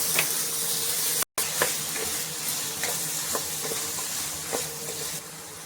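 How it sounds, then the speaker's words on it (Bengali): Ridge gourd fries in a pan with a continuous close sizzle, broken by soft scraping strokes of stirring at a fairly regular pace. "নিয়ে ঝিঙেটা ভালো করে একটু ভাজবো।"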